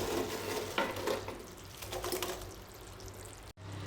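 Fried bread pieces tipped into sugar syrup in a pan for bread halwa and stirred, giving close, steady wet scraping and gentle bubbling with a louder splash near the start.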